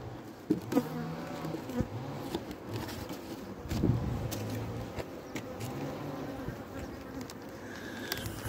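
Honey bees in an opened hive during a February colony check drone in a dense, continuous buzz, close and steady, with occasional soft handling knocks.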